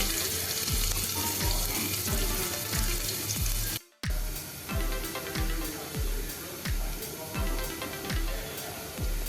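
Finely chopped onion fries in a pan with a loud, continuous hiss and regular soft knocks, likely from stirring, cut by a brief silence partway through.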